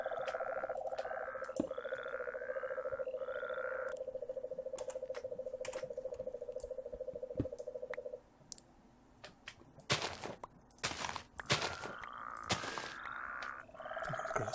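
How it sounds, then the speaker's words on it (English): Toads croak in the Minecraft Regrowth mod, a buzzy pulsing trill that runs steadily for several seconds, then gives way to sharp game clicks and short bursts of other effects, with no talking. "So I've got some toads now."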